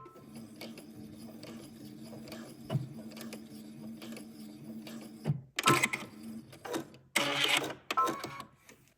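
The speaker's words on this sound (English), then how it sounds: "Then we're going to go to the sewing machine, and we're going to insert a stitch from the outer edge to the inner edge" A sewing machine stitches dress seams for a Cashmerette Mansfield Dress, running in a low steady hum with rhythmic needle ticks, then breaking into louder, rattling bursts of faster stitching near the end.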